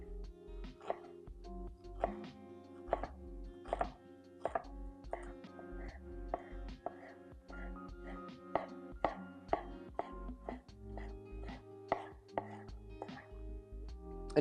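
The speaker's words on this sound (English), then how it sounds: "I'm very thinly slicing after rolling the herbs." Knife thinly slicing rolled basil leaves into chiffonade on a cutting board, a quick regular series of soft close taps and drags, with quiet talk in the background.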